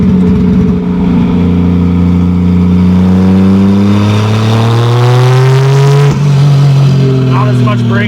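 A 2JZ-GE NA-T swapped MK3 Supra engine revs loudly and climbs under boost, then stumbles and cuts out briefly before picking up again, heard up close.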